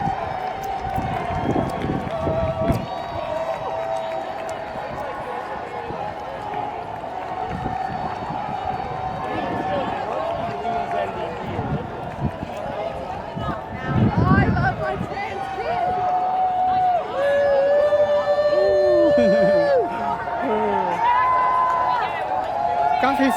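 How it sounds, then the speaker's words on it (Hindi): A street crowd hooting and cheering at a trans march in downtown Toronto during Pride Month, steady outdoor crowd noise with whoops and scattered shouts, people talking throughout. "लोग बस हूटिंग कर रहे हैं"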